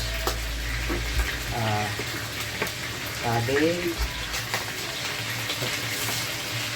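Cabbage, potato and pak choy sauté in a pan with a continuous moderate sizzle, broken by stirring scrapes and a few brief voice-like tones.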